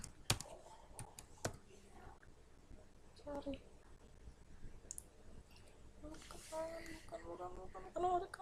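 Computer keyboard being typed on while a medical record number is entered, scattered clicks and keystrokes at close range under soft, intermittent talking.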